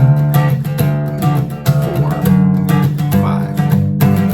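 Electric guitar riff, played in low D tuning with fretted notes on the low strings, a loud, rhythmic run of plucked notes repeating over a few seconds.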